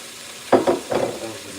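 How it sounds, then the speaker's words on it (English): Chili ingredients sizzle in a hot pan over medium heat, with a few short bursts of stirring and frying noise standing out over a steady low background. "Listen to that Sizzle."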